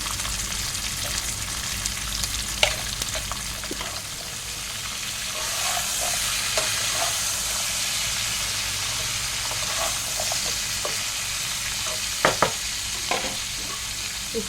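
Vegetables seasoned with turmeric and salt frying in a pan, a constant close sizzle and hiss with occasional scrapes and knocks of a stirring spoon, no one speaking.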